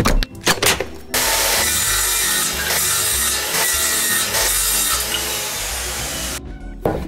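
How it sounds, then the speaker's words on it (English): A hand saw cuts through an old curtain pole in steady, rasping back-and-forth strokes, loud and close, with a few knocks at the start and a brief pause near the end. "I was thinking of cutting up this old curtain pole and seeing how that works"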